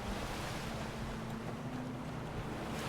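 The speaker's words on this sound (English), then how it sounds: "Waves." Ocean surf washing onto a shore in Skyrim, a soft continuous wash of waves with a low hum beneath, faint and steady without speech.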